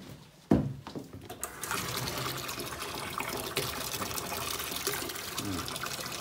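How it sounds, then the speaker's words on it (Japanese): Tap water runs steadily into a plastic bottle being rinsed, a continuous gushing fill that starts after a sharp knock near the beginning and keeps going throughout. "あの水道水で洗っちゃいます"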